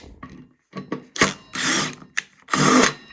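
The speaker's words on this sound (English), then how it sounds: "you drill a certain size hole and it threads itself" A power drill driving self-tapping screws into a Kubota TG1860 mower deck whirs in several short bursts of varying length, close by, with brief pauses between each run.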